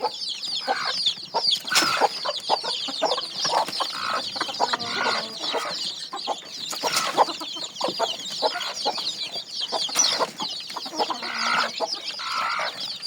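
Village chickens cluck busily and continuously nearby, a dense flock chatter of overlapping calls with an occasional louder squawk and no talking.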